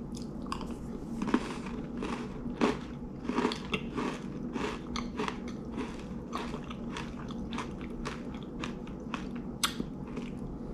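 Close, crunchy chewing of an Oreo Space Dunk cookie with chocolate and popping candy in the cream, a steady run of bites and mastication noises with small crackles, no talking.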